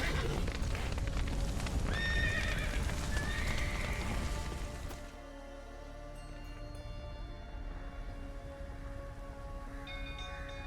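Horses in The Witcher 3 neigh in shrill rising calls over a dense, noisy backdrop like rain. The din then drops to a quieter hum, and another faint whinny follows.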